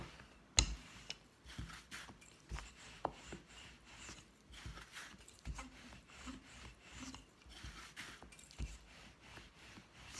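Bread dough for Palestinian flatbread being rolled out on a floured wooden board, giving soft irregular knocks, thumps and rubbing sounds, quiet and close, with no talking.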